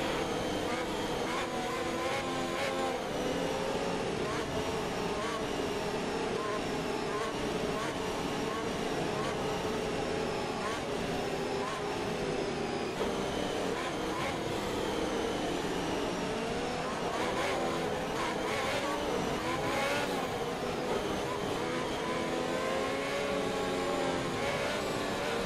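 Formula 1 cars from the F1 2021 racing game accelerate at the Saudi Arabia circuit as the safety car period ends, a dense continuous engine roar with rising pitch sweeps running throughout under low background voices.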